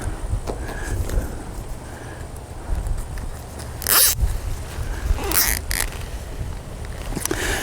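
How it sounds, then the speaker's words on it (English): Zip ties zipped tight around folded material while securing a greenhouse against animals; several quick ratcheting bursts, close and fairly loud, over a low background. "Now I got some zip ties here, and we're going to zip tie this."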